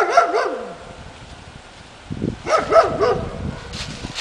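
A dog barks and yelps in short bursts close by, one volley at the start and a stronger cluster of barks after a brief lull, with whimpering tones between.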